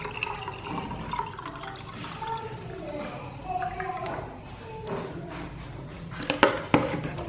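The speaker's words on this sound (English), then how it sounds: "I'm sieving my coconut water because it has some particles." Coconut water poured through a sieve, a steady liquid trickle and splashing with a few louder drips near the end, close by.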